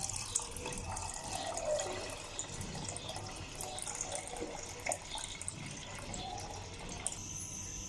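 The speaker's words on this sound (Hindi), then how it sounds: "अब मैं इसमें एक्स्ट्रा पानी ऐड करूँगी" Steady running water streams into a pot of dal, a continuous splashing wash with faint clinks, fairly close and without any talking.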